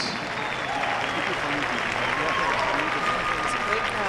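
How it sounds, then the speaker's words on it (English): Audience applause for twelve ballroom dance semi-finalists at the Ohio Star Ball in Battelle Hall, a dense, continuous roar of clapping from a large crowd, even and sustained with faint tonal sounds in the background. "give a great round of applause to these 12 semi-finalists"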